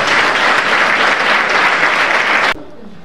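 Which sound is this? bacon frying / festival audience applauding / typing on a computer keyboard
festival audience applauding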